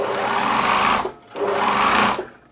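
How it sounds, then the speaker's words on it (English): A sewing machine stitching along a fabric dart in two quick bursts of rapid, buzzing needle action, separated by a brief pause, close and clear with no talk. "Sewing along, and I'm sewing straight along the dart, not along the fabric."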